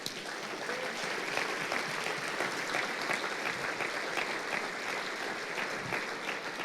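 A church congregation applauds steadily, with dense, sustained clapping filling the room at an even level throughout.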